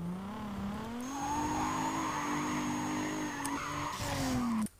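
Tires squeal in a long, rising screech as a Nissan Silvia mod drifts in Need for Speed Carbon, the engine revving underneath and the pitch shifting as the slide continues, cutting off abruptly at the end.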